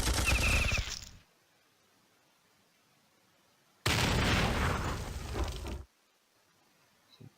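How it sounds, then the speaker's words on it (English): Plasma artillery fires in the Battle Nations strategy game, two loud broadband blasts with long noisy tails, separated by near silence. "Plasma artillery."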